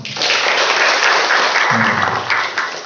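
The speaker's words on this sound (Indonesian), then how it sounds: "Kasih tepuk tangan dulu dong." A talk-show studio audience claps together in a dense, steady burst of applause lasting about three seconds, loud and close throughout.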